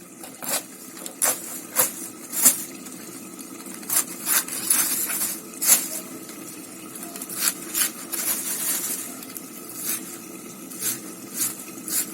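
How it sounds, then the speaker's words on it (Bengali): Cabbage being cut with a knife on a board, a series of crisp chopping taps, close and irregular, over a soft steady background hum. "এখন বাঁধাকপিটা কেটে নেবো"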